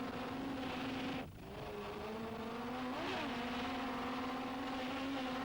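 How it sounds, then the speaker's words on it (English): A racing powerboat engine drones loudly and continuously during a race off Guernsey, its revs dipping briefly then climbing and wavering with throttle changes. "You can hear the subtle changes from the throttle man on the revs."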